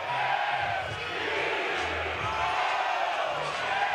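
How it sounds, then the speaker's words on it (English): A steady, unbroken roar from Oregon State baseball fans packing Goss Stadium at Coleman Field during a game against Florida State, distant and sustained, with a commentator's voice over it. "This crowd, man, they don't let up"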